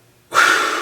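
A sharp, forceful exhale during a breathing exercise in a beginner martial arts class, rushing out suddenly after near silence and holding loud and breathy to the end, close to the mic.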